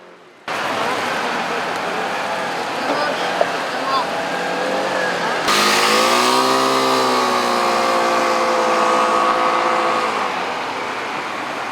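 Trainee riders on 125 cc motorcycles speed up during a braking exercise. Their engines drone steadily, then rise to a louder, higher-pitched whine midway through and hold there.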